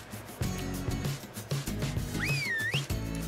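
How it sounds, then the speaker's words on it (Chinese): A war whistle blown in ARK: Survival Evolved gives a rising, bending whistle tone lasting about a second, over a steady rhythmic game music backdrop with repeated low thumps. "我已经吹了战争的口哨"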